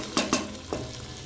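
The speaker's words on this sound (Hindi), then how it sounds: "पानी डालने के बाद मैं इसे अच्छे से हिला लूँगी" Black chickpea curry stirred in a pan just after water is added, a few quick scraping knocks of the spoon against the pan over a soft background sizzle, close up.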